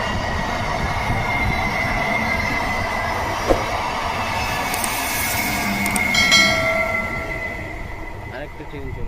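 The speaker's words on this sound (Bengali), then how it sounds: "দেখছো, আরেকটা ট্রেন যাচ্ছে।" An electric train runs past outdoors on rails, a rolling rumble with metallic ringing squeals that swells to a peak near the end before easing off, while a person talks over it.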